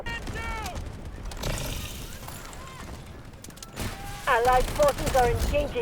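Rapid bursts from an UZI submachine gun in the shooter Delta Force, close and loud against battlefield noise, with a player talking excitedly between the volleys.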